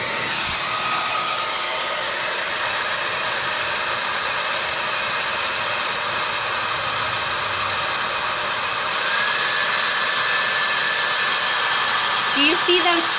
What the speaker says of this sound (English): we're gonna take this hair dryer, we're gonna put it on medium cool heat to start